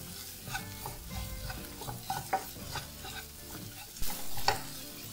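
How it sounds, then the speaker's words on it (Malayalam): A gram flour mixture for egg curry is stirred in a pan, with soft irregular scraping and spoon knocks over a low sizzle, fairly quiet and close, no voices. "എന്നിട്ട് നമുക്ക് ഇത് നല്ലപോലെ ഒന്ന് ഇളക്കി കൊടുക്കണം."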